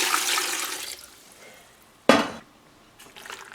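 A couple of quarts of water are poured into a cooking pot for xiao long bao broth, a gushing splash followed by a short sharp pour and a brief later trickle, with no talk.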